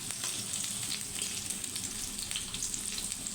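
Dried chilies sizzle steadily in hot oil in a pan for vegetable khichuri, a dense continuous crackle and hiss at close range with no voices.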